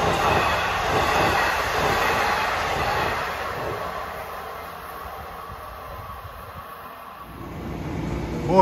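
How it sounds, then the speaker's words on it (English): An LIRR commuter train, number 658 bound from Hunters Point Avenue to Port Jefferson, rolls loudly past Merillon Avenue station on track 1, a steady rumble and wheel noise that eases slightly before a sharp rise at the end. "Approaching at 451 down track 1 is train 658 en route from Hunters Point Avenue to Port Jefferson"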